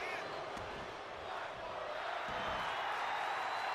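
A wrestling video game arena crowd in WWE 2K25 cheers and roars in a steady, swelling wash of noise, with loud commentary talking over it throughout.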